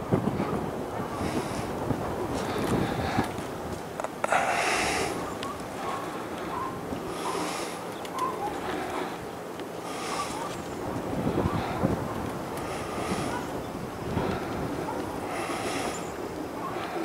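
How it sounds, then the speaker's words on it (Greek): Steady wind buffets the microphone by the sea at Perama, roaring continuously throughout with gusty bursts of broadband rush, loud and close. "Μπορεί να ακούγεται και ο αέρας λίγο."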